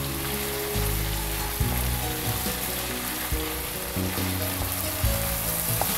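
Dry rupchanda fish curry with chopped coriander being stirred in a pan, a soft steady sizzle under low scraping stirs, fairly quiet and close, no speech.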